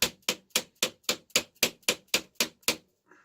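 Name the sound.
hammering a manual impact driver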